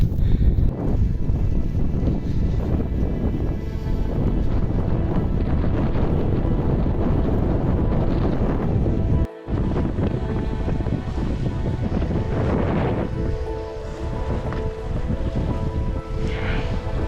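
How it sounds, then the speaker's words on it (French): Strong wind roars against the microphone while bikepacking on a gravel bike, a steady loud rumble that continues without a break for the whole stretch, dropping out only for a moment near the middle. "En plus il y a du vent."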